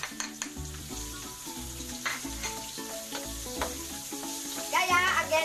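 Onions sizzle and fry in hot cooking oil in a pan for Filipino pork menudo, a steady close crackle with stirring and a brighter hiss near the end.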